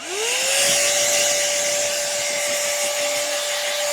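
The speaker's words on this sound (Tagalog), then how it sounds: "i-blower natin to kasi kailangan natin tong patuyuin bago natin i-plansya" A hand-held hair dryer blows in a steady, loud whir as it spins up and dries hair during a L'Oréal rebonding treatment, holding one constant motor tone with a faint rumble underneath.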